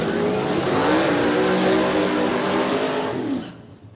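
A Fox body Mustang and a fourth gen Camaro drag race side by side at a motorplex, their engines a loud close roar of rising revs that holds, then cuts off sharply at the end.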